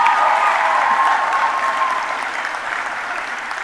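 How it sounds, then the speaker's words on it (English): Loud applause and crowd noise for graduates at an American School of Doha commencement, a brief burst of clapping that tapers slightly toward the end. "you can clap for yourselves"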